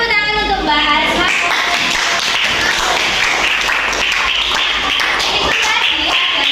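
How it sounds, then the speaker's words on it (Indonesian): A group in a classroom or presentation setting gives a round of applause. Many hands clap steadily and fairly close, and a voice is heard briefly at the start. "Tepuk tangan untuk Mbak Asma."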